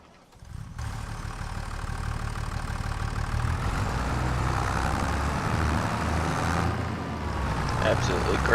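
A tractor engine in a truck and tractor mod game idles and runs with a steady low rumble that swells after a quiet start and holds loud and even.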